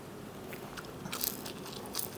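Biting into a crispy jalapeno bacon cheddar pizza gives a few close, dry crunches, with a sharper bite near the middle and another toward the end, with no talking.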